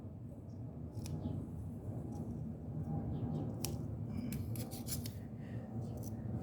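A plant stem being snipped off for propagation: quiet handling and rubbing, then a few short, sharp cuts and clicks near the end, close and faint, with no talk.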